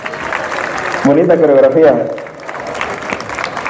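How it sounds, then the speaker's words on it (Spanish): Audience applause for a girls' dance group from a Casa de Cultura at a Viva México celebration in Cosamaloapan, steady clapping throughout while a voice speaks over it. "Un aplauso para las chicas, por favor."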